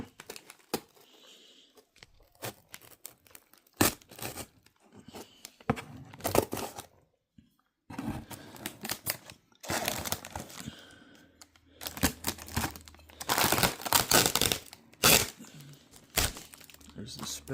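Packaging around a Nexa FW190 1510mm model airplane is cut open, giving close, intermittent crackles, snaps and tearing rustles separated by short quiet gaps, with someone talking between them.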